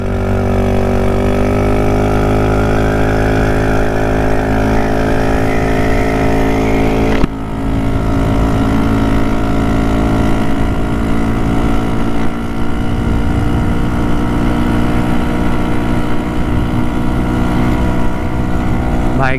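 A GY6 150cc scooter engine runs steadily and loudly, its loose exhaust, held by only one bolt, a raspy, blatting drone that stays constant throughout, close by.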